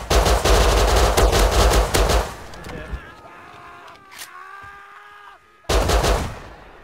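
Gunfire in the video game Rust rattles in loud, dense bursts at the start and again near the end, with a quieter stretch between, while players talk over it.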